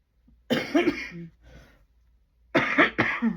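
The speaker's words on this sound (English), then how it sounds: "Oh my goodness, with the coughing already." Two clusters of harsh, close coughs, each a few rapid bursts, separated by a softer cough and a short silence.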